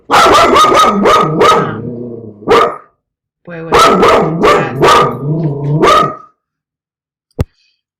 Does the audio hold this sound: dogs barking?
yes